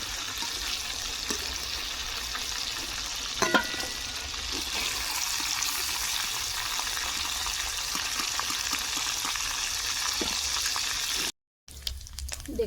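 Chicken pieces fry in hot oil for curry, a steady close sizzle with occasional soft stirring knocks that cuts out briefly near the end before resuming.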